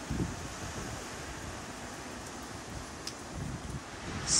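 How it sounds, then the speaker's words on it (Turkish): Steady hurricane wind roars and rushes outdoors, a broad continuous noise with gusts swelling near the start and end. "Oldukça güçlü bir rüzgar var."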